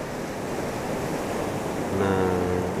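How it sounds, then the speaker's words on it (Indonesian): Ocean surf rolls in at Sirombu beach in the evening, a continuous broad wash of waves with wind rumbling across the microphone, and a faint steady engine-like hum joining near the end. "itu gelombangnya juga sangat indah sekali"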